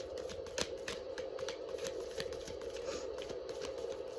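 Oracle reading cards being shuffled, a steady riffling patter of card edges with small clicks, close and fairly quiet, with no talking over it.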